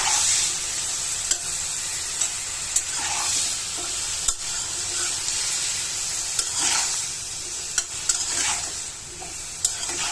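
Sweet pumpkin pieces frying with onions in a pan, a loud continuous hiss and sizzle with occasional sharp spatula clicks against the pan at irregular intervals, no one speaking.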